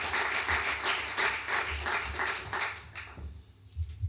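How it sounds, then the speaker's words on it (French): Audience clapping for Michel Maire, a former engineer and business leader, at a French association event in Île-de-France; dense applause swells in waves and then thins out near the end. "Je vous demande de l'applaudir."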